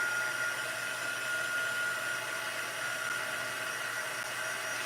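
A heat tool blows steadily to dry freshly stamped ink on a card, a continuous close, even whooshing hiss with no break and no talk.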